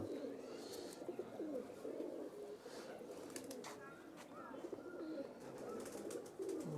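Giribaz and Pakistani bloodline pigeons coo softly in low, rolling calls, several birds overlapping, with faint background rustling and distant chatter.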